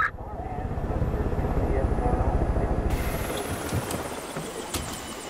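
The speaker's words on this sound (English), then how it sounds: "There's choppers in the area." Helicopters circle over a fortified chalet in the video game Far Cry 5, a fast rotor chop that stays loud and steady throughout, with faint voices underneath.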